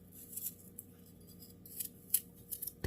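A knife cuts the core out of a Granny Smith apple while preparing apple pie filling, giving a few scattered crisp slicing and scraping sounds. The cuts land at irregular intervals and are heard up close and alone, with no talk.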